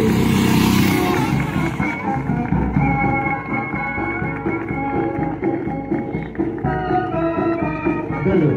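Motorcycles in a BSF motorcycle rally display in Jaipur pass by with a rough, mid-level engine rumble under crowd noise and a loudspeaker voice, continuous throughout.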